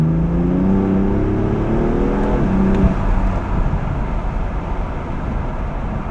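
A BMW M4 engine revs on the downshift, its rising tone climbing for a couple of seconds before breaking into a loud, rough, steady roar close by. No one speaks.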